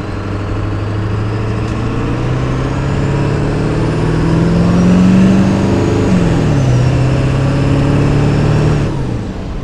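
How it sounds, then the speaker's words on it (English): A Ford OBS truck with a new exhaust downpipe, its loud close engine revving and settling while a whistling exhaust tone rises and falls over a deep steady drone, no talking. "The exhaust note's got more of a whistle as opposed to the sound"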